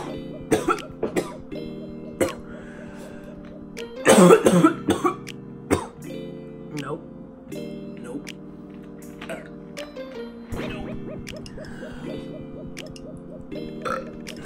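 A man gives a deliberately fake cough after a hit from a Yocan Uni vape: a few sharp bursts clustered near the middle, over a low humming background with scattered clicks and knocks.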